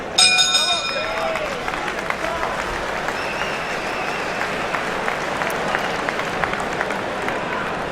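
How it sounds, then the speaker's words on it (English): A boxing crowd at a Carl Frampton fight gives scattered, appreciative applause, a steady wash of distant clapping and crowd noise beneath a commentator's voice, with a bell ringing at the start. "One or two appreciative rounds of applause."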